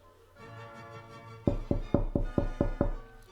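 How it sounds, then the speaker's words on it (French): A run of seven sharp raps, evenly spaced and fairly close, like knocking on a wooden door, after a faint rustle. "Le corbeau cogne du bec à la porte."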